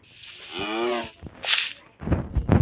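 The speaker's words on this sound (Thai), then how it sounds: "เสียงวัวนี่ก็ร้องบ่อยเหลือเกิน" A cow in the Minecraft video game gives a clear, drawn-out moo, followed by a few game sound effects and clicks.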